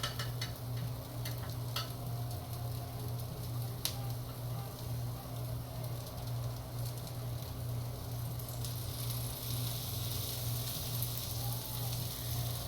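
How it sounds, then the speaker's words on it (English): Pancake batter sizzling in a hot pan, a steady soft hiss with faint ticks and stirring scrapes, close and continuous with no talk. "I don't know if you guys can hear that sizzle"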